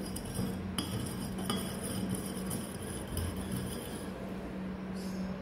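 Common salt being stirred into water in a glass beaker, with the light clinking and scraping of a stirrer against the glass repeating in a quick, irregular rhythm over a steady background hum.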